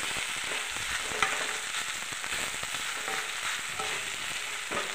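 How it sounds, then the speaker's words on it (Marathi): Sabudana khichdi being stir-fried in a kadhai, giving a continuous close sizzle with light crackling and scattered stirring scrapes throughout, no voices. "व्यवस्थित परतून घ्यायचं."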